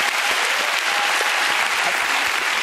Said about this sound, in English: That was a very lacklustre applause.